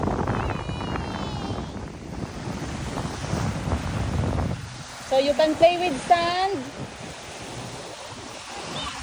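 Gusty wind buffets the microphone at a beach in the Philippines with surf rumbling beneath, while people talk nearby and a voice rises over it.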